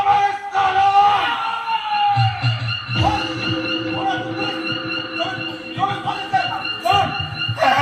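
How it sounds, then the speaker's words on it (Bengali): A police car siren wails with rising and falling tones during a Bengali jatra folk stage play, mixed with shouting voices and crowd noise. "সত্যি তো পুলিশের গাড়ি"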